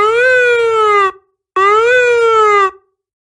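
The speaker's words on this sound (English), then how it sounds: "A piercing siren echoed through the cantina." Two loud, piercing siren wails echo through a cantina, each rising then slowly falling for about a second, separated by a brief gap, with nothing else underneath.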